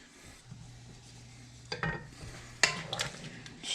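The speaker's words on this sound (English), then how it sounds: "Stir that up." A spoon stirs ground meat in a pot of chili, producing soft scraping and a couple of sharper knocks against the pot, near and moderately loud, with a faint low hum underneath.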